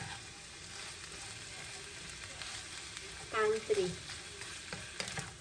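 Shrimp sauté and sizzle in a hot pan, a steady close frying hiss throughout with a few brief clinks and stirring scrapes, while a voice speaks briefly over it.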